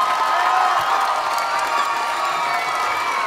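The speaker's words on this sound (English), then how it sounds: "Applaud loudly and deafeningly for this team." Concert audience at a show in Davis, California, applauding and cheering loudly, a thick roar of clapping mixed with shouts and whoops, sustained and full throughout.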